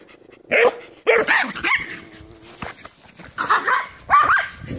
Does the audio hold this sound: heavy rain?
no